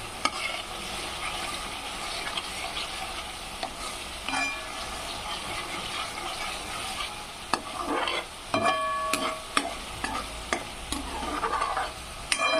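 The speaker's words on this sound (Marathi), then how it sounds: "आपण काय बारीक आचेवरती असं फ्राय करून घ्यायचा" Egg curry masala frying in oil over a low flame, a steady soft sizzle with occasional stirring scrapes and clinks of a spoon against the pan, close and continuous.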